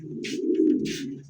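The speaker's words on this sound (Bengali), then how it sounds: "খুব সুন্দর দেখেন সিঙ্গেল একটা কবুতর" A single female pigeon, a prized fancy-breed bird on sale, coos in a low, steady, throaty rumble for about a second, close and clear, with faint rustling at its edges.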